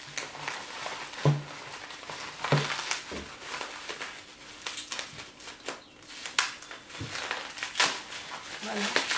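Close crinkling and rustling of paper as a well-wrapped small stone statue is unwrapped, in irregular bursts with a few soft knocks, while someone speaks quietly.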